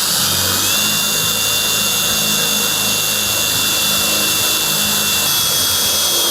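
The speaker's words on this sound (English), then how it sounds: "We will now drill this hole to be able to mark the other ones." A power drill runs steadily at high speed while boring a hole into a golf cart roof strut, a loud, continuous whine held close throughout without speech.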